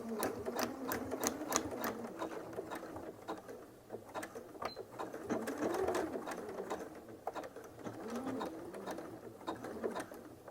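A sewing machine backstitches thick rope for a jelly roll rug, its rapid mechanical stitching chatter running steadily and close throughout with small pauses and shifts in speed, and no voice over it.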